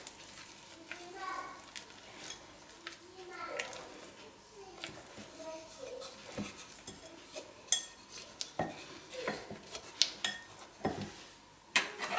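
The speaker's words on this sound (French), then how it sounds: "je viens de terminer la mousse au chocolat, je viens de tourner les œufs, comme j'ai expliqué tout à l'heure, dans le chocolat" Soft utensil scrapes and light clinks of a spatula working beaten egg whites into melted chocolate for a chocolate mousse, irregular and close, with a few sharper taps toward the end and faint voices in the background.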